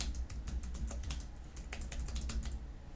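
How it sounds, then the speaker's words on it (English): Rapid typing on a computer keyboard, a steady patter of close, crisp keystrokes with irregular rhythm and no talking, over a low hum. "struggling with typing today"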